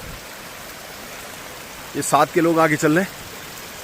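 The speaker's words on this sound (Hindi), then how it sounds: "ये रास्ता है और रास्ते में भयंकर पानी चल रहा है" Heavy rainwater rushing along a mountain pilgrimage trail during rain, a steady broadband roar throughout, with someone briefly speaking over it near the middle.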